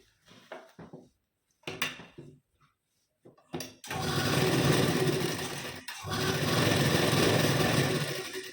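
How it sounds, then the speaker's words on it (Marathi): A sewing machine stitches a blouse's V-neckline edge with a half-inch gap. After a few scattered handling knocks and taps, a loud, steady motor whir runs continuously for several seconds, with one brief pause midway. "गळ्याला व्यवस्थित 1/2 इंचाच्या गॅपने आपल्याला टीप देऊन घ्यायची"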